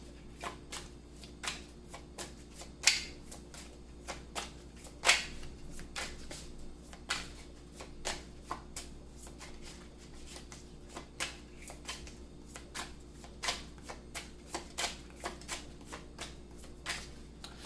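Tarot cards shuffled by hand in a steady run of soft riffling flicks and taps, close and fairly quiet, with a low constant hum underneath and no talking.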